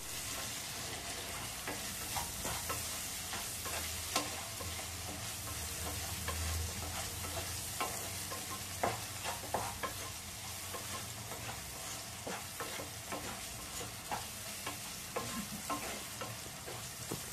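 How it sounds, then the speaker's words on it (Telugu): Tomatoes frying with salt in a pan, a continuous crackling sizzle with frequent stirring scrapes and clicks throughout, no talk. "ఇప్పుడు టేస్ట్కి సరిపోయినంత సాల్ట్ వేసి ఒక 1/2 మినిట్ ఫ్రై చేసుకోవాలి."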